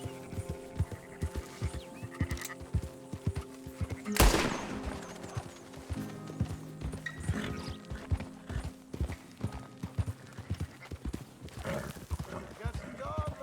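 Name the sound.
horse galloping hooves in Red Dead Redemption 2 video game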